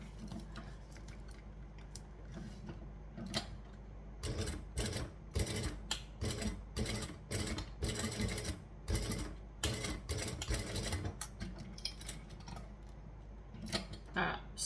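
Sewing machine stitching a leather strap in bursts of rapid mechanical clatter, several runs starting and stopping with short pauses, close and fairly quiet.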